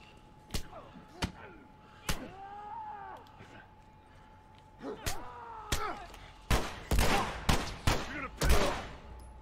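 Sharp gunshots from a video game firefight, a few isolated cracks early and then a rapid cluster of loud shots toward the end, with players' voices speaking in between.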